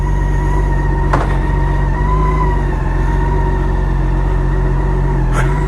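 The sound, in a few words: BMW K1600B Grand America motorcycle riding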